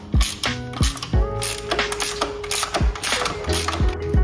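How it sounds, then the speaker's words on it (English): Ratchet wrench removing the original bolt on a KTM 1290 Super Duke R motorcycle, close rapid clicking pawl strokes in short repeated bursts, no talking. "Step 2 is to take out the original bolt."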